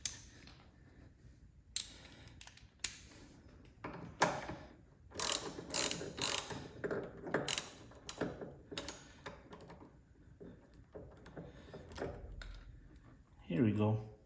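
An Allen wrench turning a bolt on a footpeg mount of a 2019 Harley-Davidson Heritage: a series of close, sharp metallic ratcheting clicks and taps, irregular and quiet, in a still workshop.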